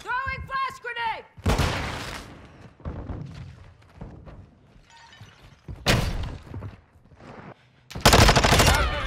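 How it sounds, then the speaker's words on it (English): Flash grenade thrown and bursting in a first-person shooter, set among loud bursts of gunfire and sharp blasts, with a voice calling out between the shots. "Throwing flash grenade."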